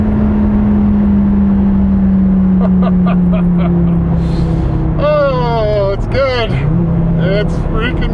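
A 2015 Dodge Viper T/A 2.0 engine hums steadily, then revs up and shifts as the car speeds along, with someone talking excitedly over the engine noise.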